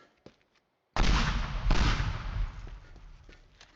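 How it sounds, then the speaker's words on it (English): Pipe bombs go off in the building-destruction game Teardown: a faint tick, then a sudden loud blast that rumbles and crackles on for several seconds with debris, a second burst folding into the decay. "Oh, pipe bombs. I remember pipe bombs."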